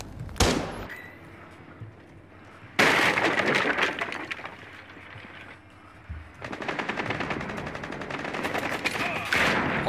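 Loud bursts of gunfire, likely a shotgun, go off in a submarine-style game, with sharp repeated blasts in two long clusters separated by a quieter stretch.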